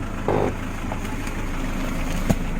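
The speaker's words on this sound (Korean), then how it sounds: "엔진 소리도 조용하고 네, 엔진 소리 이렇게 아, 조용하죠." A SsangYong Actyon Sports pickup engine idling quietly, a steady low hum close by, with a brief louder knock or bump near the end.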